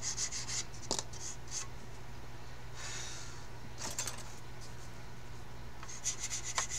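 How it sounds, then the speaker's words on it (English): A buffing stick rubs across the plastic surface of a 1/32 scale OS2U Kingfisher model kit, giving soft, scratchy strokes in short bursts over a quiet background. "Here's a buffing stick right here. Take up some scratches right there."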